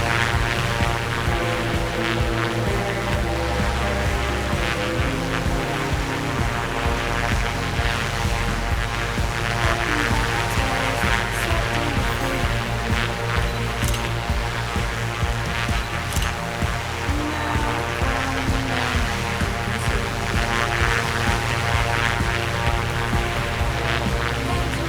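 A light propeller aircraft engine drones steadily in flight near Lake Tahoe at twilight, a constant loud hum with no break.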